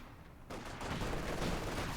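Katyusha rocket artillery fires in Company of Heroes 2 as a sudden loud burst of rushing, crackling launches that starts partway in and keeps rolling.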